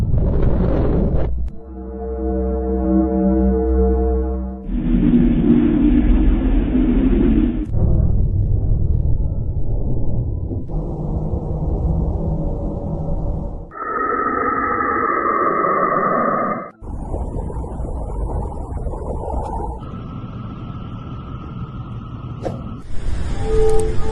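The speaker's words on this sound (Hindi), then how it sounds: "तो चलिए अंतरिक्ष में मौजूद उन रहस्यमय आवाजों को सुनते हैं।" Space radio waves converted into sound, heard as a series of sustained synthetic drones and hums, each lasting a few seconds before shifting abruptly to a new tone, some low and rumbling, others higher and whistling, loud throughout with no talking.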